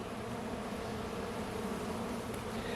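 Honey bees swarm around an open hive during a mid-July inspection, a dense, continuous buzzing drone that fills the space, steady and close, with no voices.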